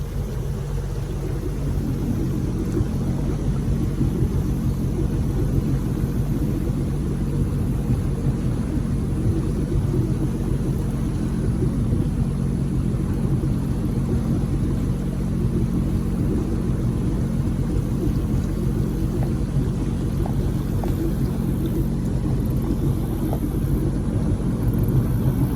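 Jet drive boat engine runs steadily on a creek on the way to the Lake Livingston waterfalls, a constant low droning rumble heard close and unbroken throughout, without any talking.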